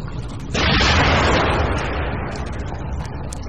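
A grenade goes off in The Evil Within, a sudden loud blast after a short quiet lead-in that rolls into a long rumbling decay with scattered crackles.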